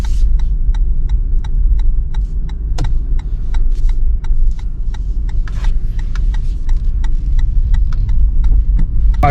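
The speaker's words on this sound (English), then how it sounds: "I'll kind of go around this corner and give it a little gas" A 2021 Toyota 4Runner driving through snow, its engine a loud steady low rumble from inside the cabin with light regular ticking clicks over the top throughout.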